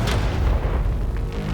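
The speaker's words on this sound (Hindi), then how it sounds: "ये 5 टैंक्स पैसों पर निशाना लगाकर 20 राउंड फायर करने वाले हैं" A tank's main gun fires at a target, with a deep, heavy boom and rolling low rumble that fills the short moment, loud and close.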